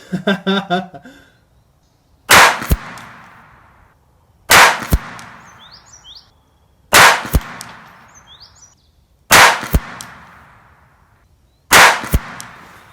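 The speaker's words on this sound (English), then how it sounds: "our sixth and final 5-shot group at 100 yards" Five sharp .22LR shots from a Ruger Mark IV pistol with a compensator, fired outdoors at a 100-yard target, evenly spaced about two seconds apart, each a loud crack with a short ringing tail.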